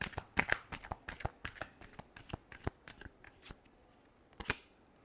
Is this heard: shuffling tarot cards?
yes